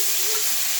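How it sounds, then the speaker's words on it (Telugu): Chopped tomato frying in a pan gives off a steady, dense sizzle, loud and close, with no voices. "టమాటా అలాగా అది ఫ్రై చేసేసుకోవాలి."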